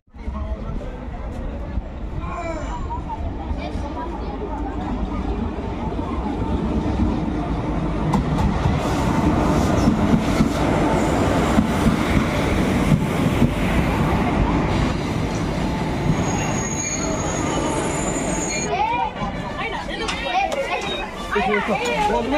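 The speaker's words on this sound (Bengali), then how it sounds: "ট্রেন ঢোকার নির্ধারিত সময় থেকে 37 মিনিট লেটে বিষ্ণুপুর স্টেশনে ঢুকলো হেতিয়া" A Hatia Express train pulls into Bishnupur station with a low rumble beneath loud, busy platform chatter and children's voices, and a high metallic squeal of brakes rising toward the end.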